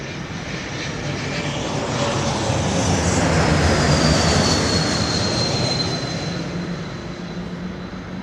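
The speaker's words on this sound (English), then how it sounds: "And here come our first departures." Jet airliners departing London Heathrow Airport roar steadily in a broad, rising and fading rumble that swells through the middle and eases off, with no talk.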